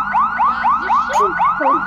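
Horn of a fire brigade Mercedes vehicle in a Roblox game, sounding as a loud, steady run of rapid rising whoops repeating several times a second, with no talk over it.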